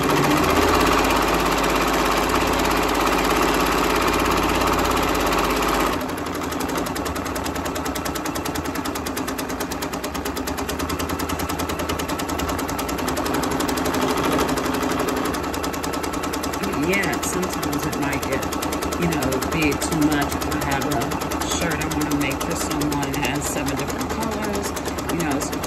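A Brother Persona PRS100 single-needle embroidery machine stitches a tote bag with a fast, steady mechanical whir and needle chatter, loud and continuous under a person talking.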